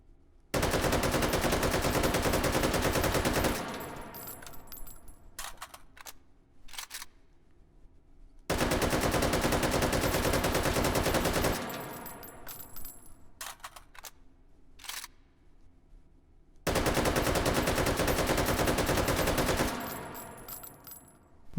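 Rapid automatic fire from an StG 44 rifle aimed at a paper target in a VR shooting game, three long sustained bursts of roughly four seconds each separated by short pauses, loud and close, with metallic clinks trailing each burst.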